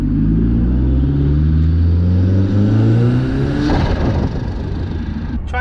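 A radio-controlled RS500 Cosworth model car spins its wheels on tarmac, a loud whining motor note rising steadily in pitch, then a sharp burst of tyre scrabble before the whine settles.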